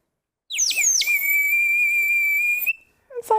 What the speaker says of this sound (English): it's kind of warbling, and the reason is that because it's filled with water